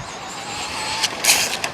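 A Traxxas Rustler RC car drives to warm up its tires, giving a steady high electric motor whine with a few brief sharp bursts near the end.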